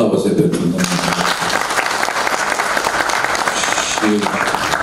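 Audience applause at a National Culture Day event in a hall, sustained clapping mixed with a voice speaking over it, fairly loud throughout.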